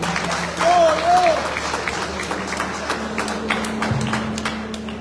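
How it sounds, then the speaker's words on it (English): Steady outdoor applause at a sod-turning ceremony for a port berth extension project, a dense, even patter of many hands that continues for several seconds, with a brief voice rising above it early on. "Let's give another round of applause."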